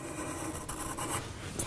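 A soft pastel stick scratches and rubs across paper in a continuous close-up grainy stroke, with a few brighter scraping accents near the end.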